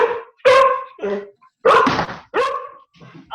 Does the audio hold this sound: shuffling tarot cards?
no